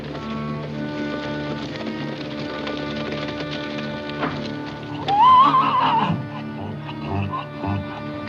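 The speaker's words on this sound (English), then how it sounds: "get the horses under the corrals" Horses whinny loudly over a constant wash of rain, with hooves clip-clopping and shuffling nearby.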